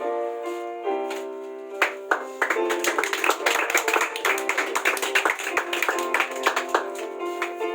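Audience clapping at a ceremony where children are called up one by one to receive a cash reward, with a dense run of hand claps that swells in the middle and carries on steadily, reasonably close, with no talk over it.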